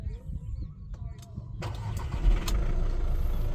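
A 2019 Volkswagen Vento Highline diesel engine cranks and catches on one try partway through, then settles into a steady idle after some quiet clicks and handling noises.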